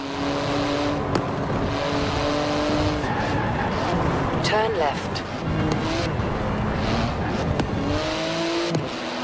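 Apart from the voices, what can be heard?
3.8-litre twin-turbo flat-six car engine, Forza Horizon 4 video game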